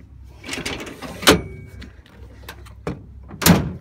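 On a 2014 Ford F-150 XLT XTR SuperCrew 4x4, the tailgate step folds back up into the tailgate with a few close metallic clunks and a solid thunk over quiet shuffling.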